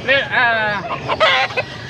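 Roosters crow and cluck at a gamecock market in Angeles City, Pampanga: one long, loud, close crow, then several shorter calls and clucks, with faint voices of the market behind them.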